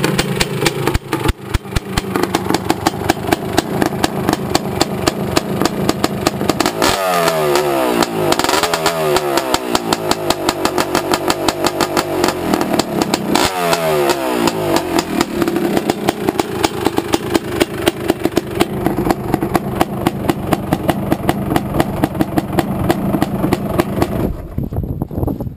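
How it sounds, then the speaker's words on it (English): A 1986 Honda ATC250R three-wheeler with a high-rev ported two-stroke cylinder runs loud and close, idling with a rapid buzzy beat and rising through several sharp throttle revs before settling back. "Paul Turner, high rev ported cylinder."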